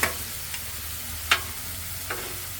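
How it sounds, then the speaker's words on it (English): Vegetables are stirred into a hamburger chow mein hot dish in a hot pan: a few scraping spoon strokes over a steady, soft sizzle, close up and without talk. "let's go ahead and mix our vegetables in"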